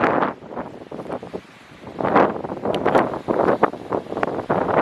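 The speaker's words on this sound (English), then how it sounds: "It's very windy and horrible." Strong gusty wind by a coastal jetty on the Eyre Peninsula roars across the microphone in loud buffeting surges, easing briefly before gusting again.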